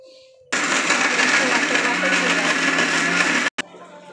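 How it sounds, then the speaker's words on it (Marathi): A mixer grinder whirs loudly and steadily for about three seconds while blending onion, tomato, sesame and chilli into a wet paste, then cuts off abruptly and gives one short restart burst. "हे आता वाटण आपण सर्व हे मिक्सरमध्ये टाकत आहोत आणि मिक्सरमधून वाटून घेत आहोत"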